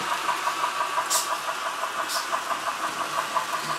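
A Broadway Limited Imports PR1a model steam locomotive cruising at steady speed, giving off a continuous, even mechanical running hum with faint regular pulses and two brief brighter hisses, close and moderately loud, with no talking.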